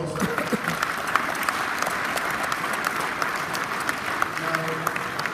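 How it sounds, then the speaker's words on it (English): An audience applauding after a professor's answer at a talk, sustained dense clapping from a crowd at moderate distance, steady throughout with faint voices mixed in underneath. "Let's give probably a big round of applause."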